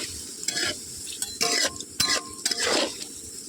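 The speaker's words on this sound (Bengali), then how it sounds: "ফুলকপিটা এবার আমি ভেজে নেব।" Cauliflower frying in a pan for winter-vegetable khichuri, with a steady close sizzle broken by several bursts of spatula stirring and scraping against the pan.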